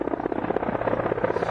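An Indian Air Force Mi-17 transport helicopter gives a steady, loud, throbbing rotor chop with a dense engine roar underneath. It is continuous and close, with no voices over it.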